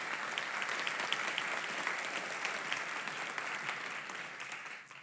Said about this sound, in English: So give them a warm applause, please.